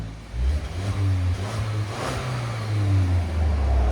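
2016 Kia Optima SXL Turbo engine with a NETAM NTR race muffler revving up from idle, a close, fairly loud rising and falling exhaust note held through several seconds, no talking.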